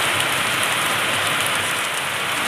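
Heavy rain pours steadily in a dense, continuous hiss of drops hitting surfaces, close and loud with no pauses or voices.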